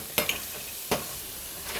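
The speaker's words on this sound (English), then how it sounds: "I let it cook till it browns" Meat browning in a pot with oil for Puerto Rican rice, a soft continuous sizzle broken by a few sharp scraping stirs near the start and middle, no talking.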